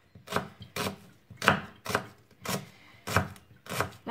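Knife chopping shallots on a cutting board, about eight firm, evenly spaced strokes in a steady rhythm, close and clear, with no talking.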